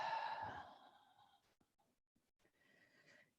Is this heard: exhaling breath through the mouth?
yes